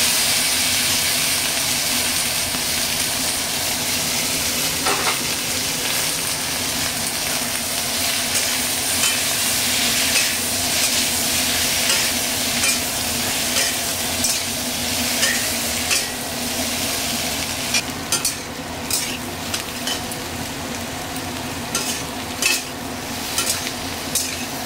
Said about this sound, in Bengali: আমুলের বাটার দিয়েছি, দিয়ে আমি এটাকে পেঁয়াজ ক্যাপসিকাম এগুলো একটু ভেজে নেব।